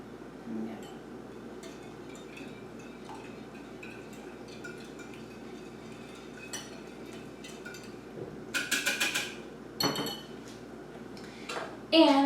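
Milk, egg, spice and vanilla being mixed in a bowl for apple pie French toast, heard as faint clinks and scrapes of a utensil against the dish, with a few sharper bursts of clattering near the end.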